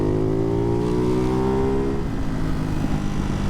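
A Ducati Hypermotard 698 Mono with a Termignoni exhaust accelerates hard, its loud, close engine note climbing steadily in pitch before settling into a rougher, steady drone.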